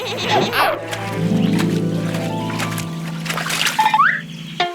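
A cartoon goat bleats loudly and tremulously in a long wavering cry over background music, with a few short sounds near the end.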